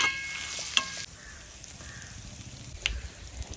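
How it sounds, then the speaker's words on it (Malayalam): Food frying and being stirred in a pan until golden for a Kerala sadya-style non-veg dish, a steady close sizzle with a few sharp scraping clinks of the spoon against the pan. "ഇത് നല്ലൊരു ഗോൾഡൻ നിറം ആവണം കേട്ടോ നല്ല ഇളക്കി കൊടുക്കാം"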